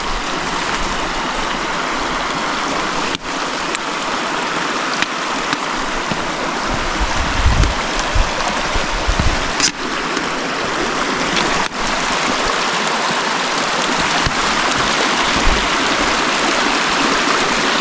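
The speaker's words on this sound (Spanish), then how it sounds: "me imagino que tendremos que cruzar el río" River water rushing along a wild hiking trail near a bear cave, a loud continuous broadband roar that stays steady throughout, with a few brief low thumps and no voices.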